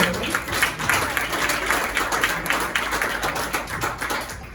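Loud, rhythmic group clapping from a Portuguese-speaking church congregation during a sermon, with close, even beats repeating steadily throughout and a faint murmur of voices mixed in.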